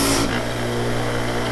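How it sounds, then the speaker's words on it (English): A bench grinder's wire brush spins with a loud, steady hum and a harsh scraping hiss as it cleans a Wahl Arco clipper blade. A brighter contact burst comes at the start, with no talking. "we're going to go back to the bench grinder one more time"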